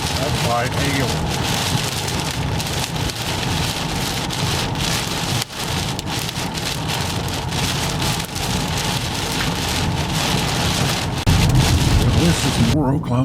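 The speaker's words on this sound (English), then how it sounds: "That's light hail." Light hail drums on a car moving at highway speed near Moore, Oklahoma, a dense, steady patter over road rumble that grows louder near the end. A voice is heard briefly.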